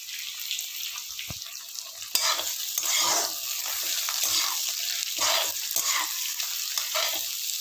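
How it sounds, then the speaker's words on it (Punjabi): Onions fry in hot oil for a pumpkin sabzi, with a steady, close sizzle and repeated scraping stirs throughout and no voices. "ਹੁਣ ਆਪਾਂ ਇਹਦੇ ਵਿੱਚ ਪਾਵਾਂਗੇ ਪਿਆਜ਼ ਇਹਨਾਂ ਨੂੰ ਚੰਗੀ ਤਰ੍ਹਾਂ ਭੁੰਨ ਲਾਂਗੇ"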